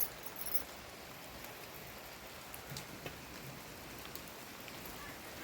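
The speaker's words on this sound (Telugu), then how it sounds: "వర్షం అయితే పడుతుంది బాగా ఎక్కువ పడుతుంది" Heavy rain pours down steadily, a dense, even patter of drops on surfaces throughout, close and continuous with no voices.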